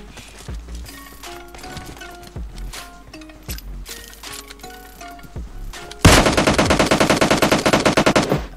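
An M762 rifle firing in PUBG Mobile, starting with scattered single shots and clanks among game sounds, then a loud, rapid sustained automatic burst with evenly spaced cracks in the final seconds.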